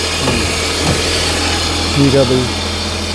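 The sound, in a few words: car engine idling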